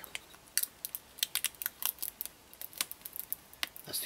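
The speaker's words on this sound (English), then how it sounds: "find a corner, and then we're just gonna peel it back" A paint stencil sheet peeled back off a surface while spray-painting an airsoft gun in Kryptek camo: a quick run of sharp crackling, ticking peels, close and fairly quiet.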